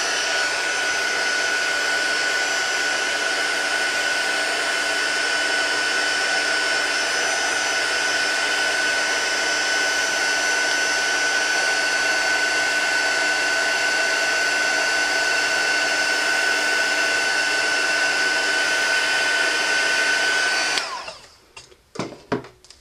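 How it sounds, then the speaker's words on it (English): A heat gun blows steadily over an embossed Bible page, a loud, even whirring roar with a constant high whine that runs unbroken for about twenty seconds, then cuts off abruptly, leaving a few faint clicks and handling sounds. "putting the heat gun on it is going to make the page warp just a little bit"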